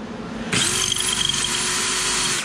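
A power drill bores angled holes into stainless steel, starting abruptly after a brief quiet moment and then running as a loud, steady, high-pitched whine with a grinding edge for the rest of the clip.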